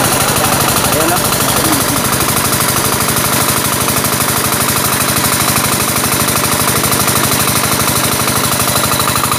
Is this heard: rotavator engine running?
yes